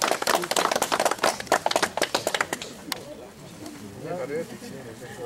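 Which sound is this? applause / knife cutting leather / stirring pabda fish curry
applause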